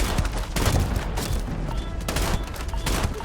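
Gunfire in the video game Starfield, a dense fusillade of rapid shots with several heavier bursts, loud and continuous with no talking.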